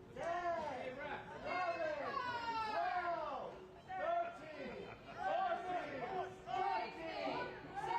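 Stadium crowd at an MLS Next Pro soccer match between Tacoma Defiance and Whitecaps FC 2, a rising and falling roar of chanting and cheering voices, loud and continuous with surges across the stands.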